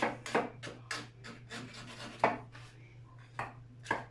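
A knife trimming tart pastry edges against a tin, about a dozen short scraping cuts in an uneven rhythm, close and quiet over a low steady hum.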